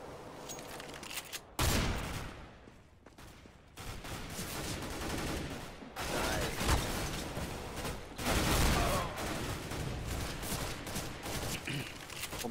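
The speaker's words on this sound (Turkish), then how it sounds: "Pompalı kadar lanet bir silah yok" Repeated shotgun blasts in Counter-Strike: Global Offensive during an Arms Race match, loud bursts of gunfire in clusters with brief gaps between them and no talk over them.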